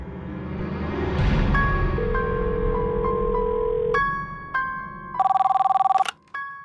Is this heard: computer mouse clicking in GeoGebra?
no